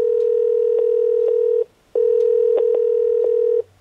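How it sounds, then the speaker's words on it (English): A steady electronic telephone preemption tone from an AUTOVON-style precedence and preemption system sounds in two long bursts separated by a brief gap, clean and continuous with no voices. "now you hear preempted tone"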